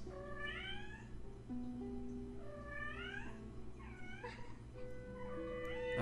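A pet cat meows loudly and repeatedly, four drawn-out, wavering calls spaced a second or so apart over a low steady hum.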